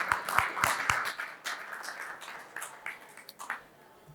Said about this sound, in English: A round of applause for Gervase